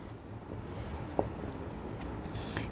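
A pen scratches across paper while solving an accounts problem, a soft steady scribble with one small tap, close and quiet against background hiss.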